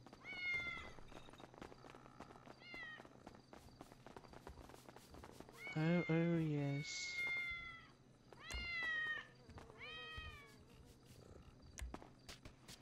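Several in-game cats in GTA 5 meow again and again, including a loud, long wailing cry in the middle and more meows after it, against light footsteps and clatter, with a brief spoken remark.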